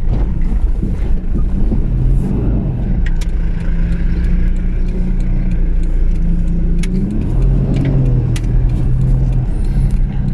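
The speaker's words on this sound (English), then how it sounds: "it's a very bouncy, rather firm ride, as you might expect for a 4x4" A 4x4 with automatic transmission rides firm and bouncy on town roads: a steady, loud engine and road rumble with wind noise runs throughout, with occasional knocks and rattles from the suspension.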